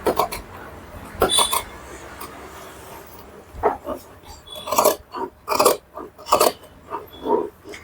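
Scissors snip through ironed blouse fabric in a string of short, crisp cuts, faint at first and then coming in quick rhythmic bursts, close up and with no talking.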